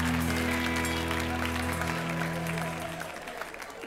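An audience applauds at a comedy show in a barn venue, loud sustained clapping that slowly tapers, with a sustained tonal sound underneath.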